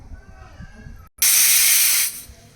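A sudden loud burst of steam hissing from a pressure cooker whistle while cooking stuffed brinjal curry, lasting about a second over quiet background noise, then fading.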